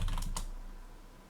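A Commodore 64 keyboard gives a few quick keystrokes at the start, then a fading hum carries on alone for the rest of the short moment.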